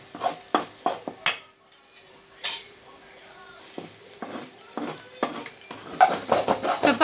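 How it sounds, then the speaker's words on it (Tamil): Eggs and soya chunks being stirred in a frying pan, with a utensil scraping and clinking against the pan in short bursts over a soft sizzle, close and moderately loud, with pauses between strokes. "இப்போ நல்லா முட்டை போட்டு நல்லா கிண்டிகிட்டே இருந்துக்கோங்க"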